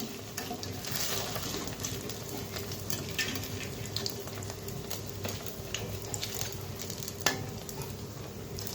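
Jute leaf fritters frying in hot oil give a soft, steady sizzle with crackling pops and occasional utensil clinks, fairly quiet and without speech.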